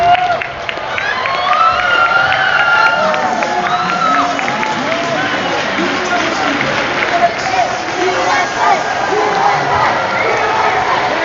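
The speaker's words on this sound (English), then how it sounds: "Still cheering USA." A large crowd at a world championship event cheers and chants for the USA, a loud continuous mass of shouting voices with whoops and rhythmic chanting, close and filling the space.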